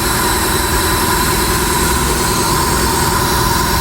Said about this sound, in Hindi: ये जो सूं की आवाज़ आ रही है वो इधर थ्रॉटल बॉडी की है।